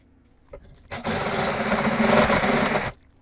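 A wood-milling cutter bit grinds into very hard kitchen sink material in one loud, sustained two-second burst of harsh rasping and whining, preceded by a short tap and ending abruptly.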